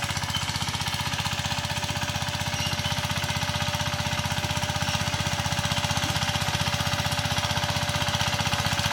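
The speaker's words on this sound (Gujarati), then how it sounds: "ટ્રેક્ટર અહીંયા ચાલુ કરેલું જોવો હે તે કેવું ખેડે તે" A VST Shakti 130DI tractor engine runs while ploughing a field, with a loud, steady, rapid diesel chugging pulse close by for the whole stretch and no talk.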